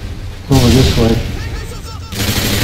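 Gunfire in Call of Duty: Modern Warfare 2 (2009) during a team deathmatch on the Afghan map: a loud sustained burst of shots, a brief lull, then more firing up close. No talk is heard.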